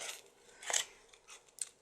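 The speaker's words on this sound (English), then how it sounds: "So, proper scissors." Scissors cutting paper for a craft project: a few quiet, close snips and crisp slicing strokes in quick succession, alone in an otherwise quiet room.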